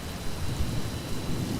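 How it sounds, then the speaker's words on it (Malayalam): Thunderstorm with heavy rain, a dense continuous wash of rainfall with deep rolling thunder rumbles underneath, steady and fairly loud throughout with no voices. "ഈ ഇടിയും മിന്നലുമാണ് സഹിക്കാൻ വയ്യാത്തത്"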